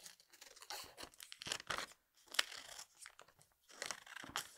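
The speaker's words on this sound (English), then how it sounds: "So I'm just roughly going to cut these leaves out." Scissors roughly cutting leaf shapes out of green felt, a series of close, irregular snipping and crunching bursts with short pauses between cuts, no talking.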